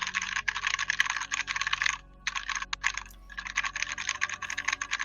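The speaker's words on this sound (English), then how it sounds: "That is the fakest ass typing I've ever heard in my life" Rapid, fast keyboard typing in the middle of a game session: dense continuous key clatter in bursts, with brief pauses near the two- and three-second marks, close and steady.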